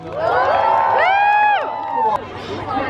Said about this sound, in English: Can you guys cheer for Alejandro?